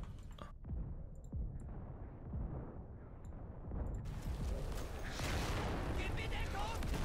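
Enemy artillery fire in Day of Infamy on a D-Day beach defence, heard as dense rumbling booms and crackling impacts that swell louder and brighter in the second half, with a voice talking over the barrage.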